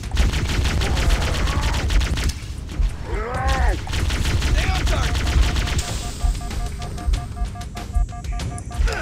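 Rapid bursts of gunfire from the video game Halo Combat Evolved, loud and dense, with repeated automatic shots and explosive blasts running continuously throughout.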